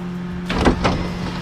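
An electric power window on a car running with the engine on moves once: a brief motor whir rises and falls over the steady idle hum, fairly close by.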